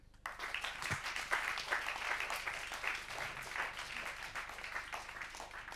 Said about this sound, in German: dafür gibt es nochmal einen großen Applaus